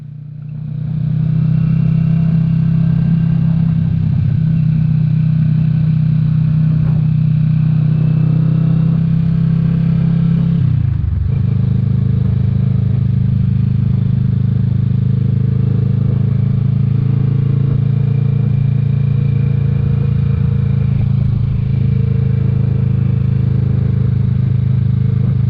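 Kawasaki Vulcan S 650 motorcycle ridden on a windy day, a loud close engine drone with a low steady hum, a brief dip and shift around the middle as the rider changes speed, then cruising on under wind buffeting.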